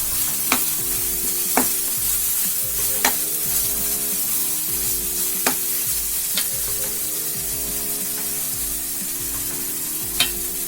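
Chicken gravy fries in oil in a pan, a steady low bubbling sizzle running throughout, punctuated by occasional light clicks of a spoon stirring, close and even, with no voices.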